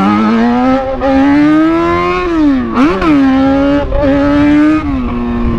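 A motorcycle rides at night, its engine note loud and close, holding steady then rising and dipping with throttle changes and gear shifts throughout.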